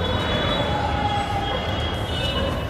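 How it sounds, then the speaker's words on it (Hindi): A Delhi Metro train arriving at night near New Ashok Nagar rumbles steadily with a sustained metallic wheel squeal and humming motors, loud and close, no voices. "दिल्ली मेट्रो आ रही है न्यू अशोकनगर से"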